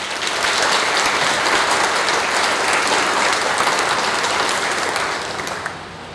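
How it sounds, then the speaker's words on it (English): An audience at an Arbor Day ceremony gives a sustained round of applause for event helpers, loud and dense from start to finish, tapering slightly at the end with no talking over it. "Please give these individuals a round of applause."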